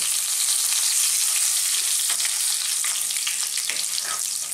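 Loud, crackling sizzle of fresh curry leaves frying in hot oil, a dense hiss with sharp pops scattered throughout, continuous and close.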